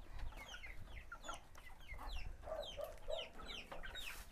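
A flock of chickens at a house in a remote mountain-top village, clucking softly and continuously in short, scattered bursts, faint and at a little distance.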